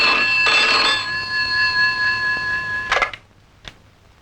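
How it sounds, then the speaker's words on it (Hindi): An office telephone rings with a bright electronic trill for about three seconds, then stops abruptly, leaving a quiet room with a faint click. "जोशी, तुम्हारे लिए फोन।"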